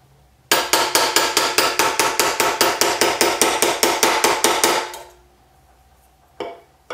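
A hammer turns over the edges of a reticulation silver cuff on a jewelry bench: about two dozen rapid, evenly spaced metallic strikes ring out close and loud, then stop, followed after a short pause by one last single blow.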